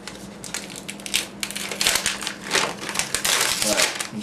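Packaging of a dock adapter being torn and opened, rough crinkling, crushing and rustling of paper or plastic in quick irregular bursts, close and fairly loud.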